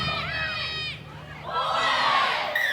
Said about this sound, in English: there's a nice crowd that's piling in as well